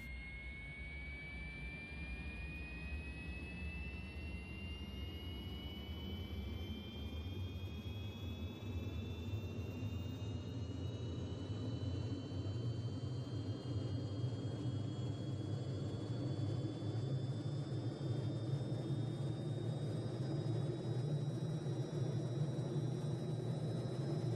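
An SA315 Lama helicopter's turbine engine spools up, its loud, continuous whine climbing slowly in pitch over a steady roar, with no talk.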